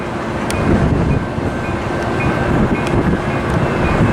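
A southbound Coaster commuter train approaches San Diego, its rumble building steadily under heavy wind buffeting on the microphone, with a faint high tone and occasional clanks heard over the continuous roar.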